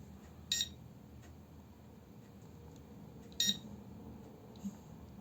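A pinpointer metal detector gives short electronic beeps as its button is pressed, two clear chirps with a fainter third, set against a quiet low room rumble.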